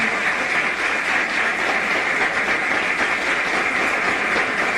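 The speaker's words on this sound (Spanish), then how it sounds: "Un gran aplauso para ustedes, mi respeto." Dense, steady applause from a radio broadcast audience fills the space at full volume for the whole stretch, an even wash of many hands with no voices on top.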